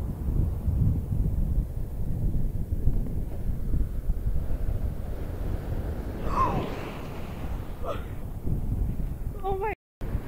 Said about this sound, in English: Extremely windy here.